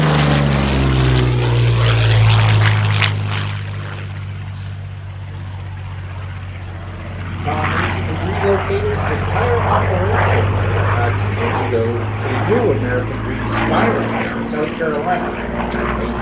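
A P-40 Warhawk propeller warplane roars loudly overhead during air show practice, fading briefly and then returning with a strong, rasping engine drone.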